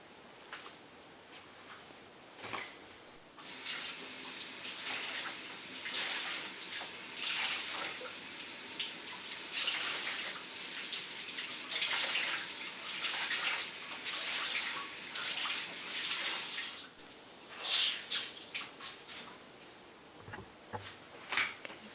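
Steady stream of tap water pours close by for about fourteen seconds while a cleaning sponge is rinsed out, starting and stopping abruptly, with soft handling noises before and after.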